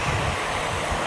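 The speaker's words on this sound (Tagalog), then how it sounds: "Grabe na yung hangin dito." Strong wind buffets the microphone during a ride, a dense, continuous roaring rush with no distinct events, loud and close throughout.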